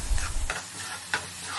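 Cucumber chutney with turmeric is stirred in a hot pan, soft sizzling broken by a few quick scraping strokes of the spoon, close and fairly quiet with no talk.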